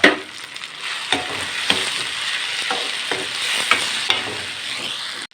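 Long-cut bell pepper is stir-fried with spices in a pan, a close, steady sizzle broken by repeated scraping and clacking strokes of a spatula, with no talking.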